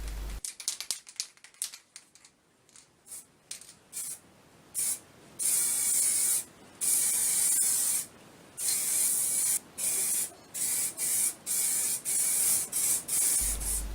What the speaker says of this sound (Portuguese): primeiro recortando chapa metálica da máquina de lavar e depois fazendo a sua pintura